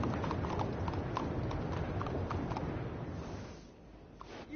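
Steady clip-clop of horse hooves from a ridden horse in the Red Dead Redemption 2 video game, a continuous rhythmic trot at moderate loudness that thins out near the end.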